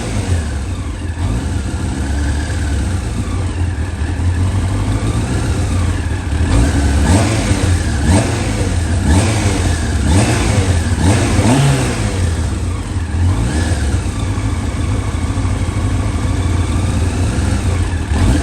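A Yamaha R1 5JJ motorcycle engine runs steadily while warming up, a loud continuous idle with a few blips of revving partway through and no talk over it.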